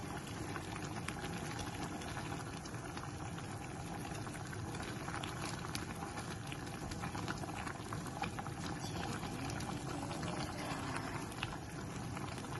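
A pot of chicken curry bubbles and simmers on the stove, a steady, dense boiling sound with continuous small pops and gurgles, close and even throughout.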